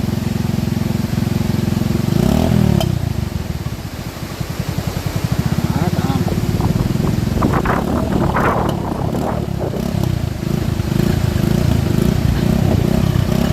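A loud tractor engine chugs and drones steadily up close, its pitch dipping briefly as it labors, then roaring on with some rattling.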